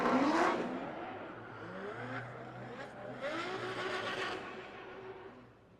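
Race cars, an Audi with a VR6 engine and an LS-powered BMW E46, accelerate with steady engine roar, rising revs and rushing pass-by swells over about six seconds, fading at the end.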